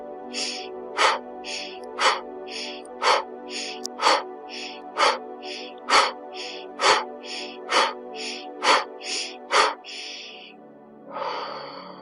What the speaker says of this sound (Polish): wykonaj ze mną 10 szybkich oddechów